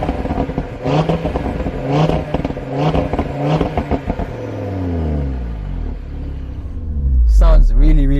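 An Audi RS3 sedan engine revs repeatedly from inside the cabin, rising and falling in loud close sweeps before building to a heavy rumbling surge, with someone talking over the first part.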